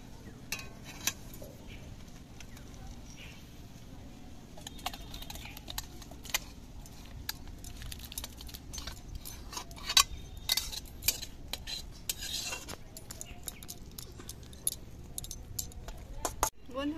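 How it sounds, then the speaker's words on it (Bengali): A cooked bottle gourd and egg dish is taken out of a wok with scattered scraping and clinking of a utensil against metal, heard close over a quiet background. "এবার আমরা নামিয়ে নিচ্ছি কড়াই থেকে।"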